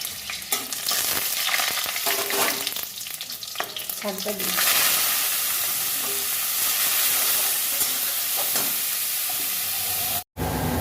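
Garlic and a green chili fry in mustard oil with boiled punka greens, sharp clattering stirring at first, then a loud continuous sizzle that keeps going to the end.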